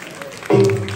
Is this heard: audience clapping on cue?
yes